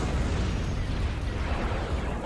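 Orbital bombardment in Star Wars Empire at War pounds the ground with a loud, continuous rumble of overlapping explosions that never lets up and has no voices over it.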